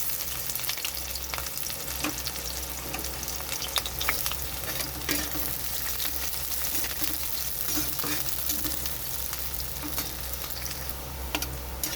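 Chopped onion fries in mustard oil in a wok with a continuous bright sizzle, broken by repeated scraping stirs and clinks of a spatula throughout, and no voices.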